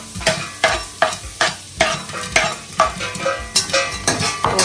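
Vegetables including carrots, beans and onions stir-fried in a pan, with rhythmic scraping stirs about every half second over a steady sizzle, close and without talk.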